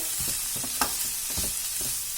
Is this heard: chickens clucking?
no